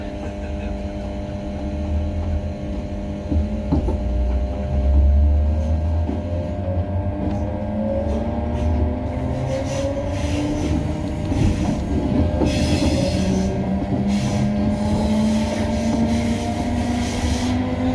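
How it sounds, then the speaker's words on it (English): Electric train whose traction system hums as it speeds up, of the type on Class 318 and 320 units and unrefurbished 1992 tube stock, with steady rising tones over continuous rolling rail noise. "A train with this traction system will make a hum noise as it accelerates."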